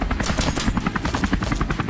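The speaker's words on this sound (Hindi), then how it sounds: "लेकिन पहले हेलीकॉप्टर उठा के बाकी बंदों को ढूंढने जाऊंगा" A loud helicopter in the video game Scarfall 2.0, its rotor chopping rapidly and steadily, filling the space with a thick, pulsing whir throughout, with no talking.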